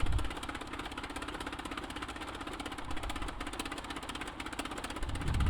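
A JN-4 Jenny biplane engine runs rough and uneven in flight, a steady rattling, knocking drone with a faintly irregular pulse, heard alone at moderate level.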